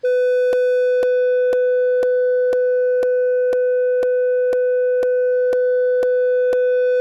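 A steady pure test tone passes through a soft clipper, holding one pitch with faint overtones while evenly spaced clicks recur about twice per second across the whole stretch, constant in loudness and with no voices.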